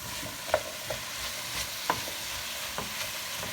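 Small, partly frozen chicken pieces cooking in a soup pot, a soft low sizzle with a few sharp utensil taps as they are stirred, fairly quiet and without talk.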